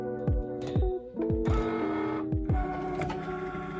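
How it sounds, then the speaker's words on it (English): A Cricut cutting machine draws in a cutting mat for printing and cutting edible images, close motorised whirring with a series of sharp clicks and clunks as the rollers engage. "now we need to load the mat on the Cricut"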